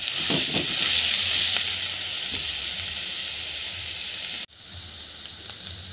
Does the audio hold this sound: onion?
yes